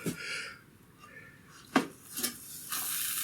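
Pesto grilled ham and cheese sandwiches are flipped in a hot pan, a soft steady sizzle broken by a few sharp scraping clatters of the spatula turning them, close by with no talking.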